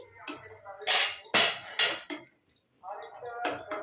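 A metal pot lid is lifted off while carrot halwa cooks, giving a few sharp clinks and clatters of metal against the pot, spaced over a few seconds, close and moderately loud.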